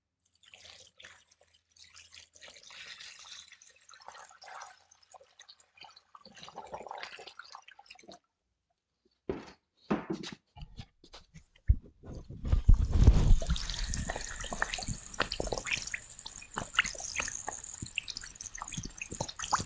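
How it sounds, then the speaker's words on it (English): Water poured onto dried clay in a ceramics studio, scattered soft drips and trickles at first, then a denser fizzing, crackling rush as the water soaks in, close and fairly quiet. "when you pour water on dried clay, it makes a very peculiar sound."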